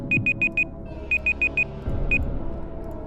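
Electronic alarm beeping in two bursts of four quick, evenly spaced high tones, then a single beep, loud and clear over a low rumbling background.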